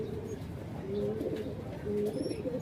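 A racing pigeon coos close by in a few soft, low, rolling phrases, with a faint voice in the background.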